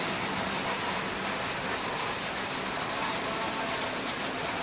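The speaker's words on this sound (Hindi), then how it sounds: "मंगल के रोज़ से बारिशों का सिलसिला जारी है और काफ़ी तेज़ बारिश भी हुई" Heavy rain pours steadily in Jeddah, with water flowing and rushing along the streets, a dense, loud, unbroken wash of noise throughout.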